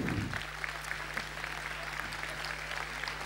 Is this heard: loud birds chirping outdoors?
no